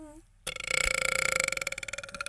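A loud, drawn-out burp rumbles for about two seconds with a pulsing, rattling texture after a brief quiet moment.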